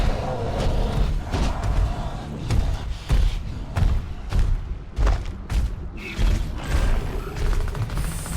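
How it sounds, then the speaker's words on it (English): Melee attacks smash through harpoons in the video game Evolve, a run of heavy, close thuds and crunching slams landing in quick irregular succession. "Melee to break harpoons."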